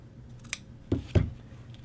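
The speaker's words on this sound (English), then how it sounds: "you will trim your collar itself just that little tiny bit narrower" Scissors trim a shirt collar seam in close, quiet snips: a light click, then two firmer cuts in quick succession.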